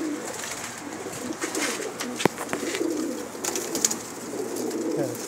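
Pakistani pigeons coo softly and repeatedly nearby, with occasional clattering and fluttering sounds mixed in.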